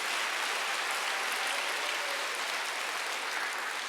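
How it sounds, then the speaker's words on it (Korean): A church congregation at a Wednesday worship service claps loudly and steadily, a dense wash of applause holding at an even level from start to finish with no voices above it. "박수 세게 쳐봐요."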